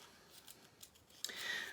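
A few soft, quick scissor snips cut through ribbon-like material for a faux bow, faint and close with short gaps between cuts, ending in a slightly longer crisp snip.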